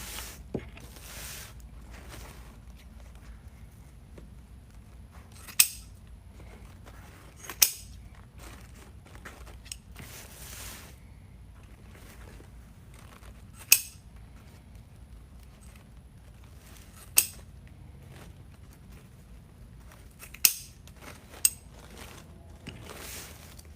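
Scissors snip ribbon tails on a Mardi Gras wreath, a handful of sharp isolated cuts spaced several seconds apart over quiet rustling, nearby and fairly faint.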